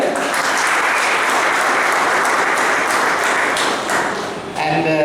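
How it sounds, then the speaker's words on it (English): Sustained audience applause at a carrom tournament prize distribution, loud and steady throughout, honoring the women finalists, with a brief dip near the end before the clapping swells again. "We need to clap even for them."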